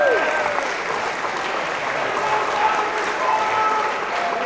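A room full of people applauding for a tennis team at an awards night, sustained dense clapping that stays loud and even throughout, with a few faint voices mixed in.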